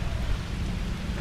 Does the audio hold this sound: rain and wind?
yes